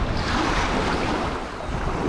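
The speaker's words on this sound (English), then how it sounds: "it's stirred up, it's nice, the wind's hitting everything" Wind blowing across open water at a fishing bank, a loud steady rush with microphone buffeting and a wash of surf beneath, close and continuous with no voices.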